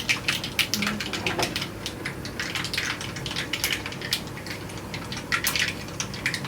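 Mustard seeds and fenugreek splutter in a covered pan while a Kerala fish curry is being made, giving dense, irregular crackling pops over a constant hiss, with no voices.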